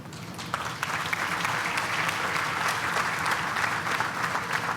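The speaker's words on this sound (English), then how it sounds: "and that is worth applauding" Audience applause at an outdoor highway improvement project groundbreaking ceremony, a crowd clapping steadily and loudly for several seconds after a brief start.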